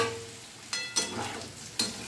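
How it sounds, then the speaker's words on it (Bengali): Turmeric and spices frying in a pan for a Bengali potol kumro curry, a steady sizzle broken by a few sharp bursts of hissing and stirring as water goes in. "এইবার আমি এতে জল দিচ্ছি"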